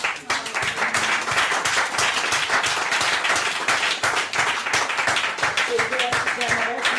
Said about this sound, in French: À ceux qui ont besoin, on va applaudir le Seigneur.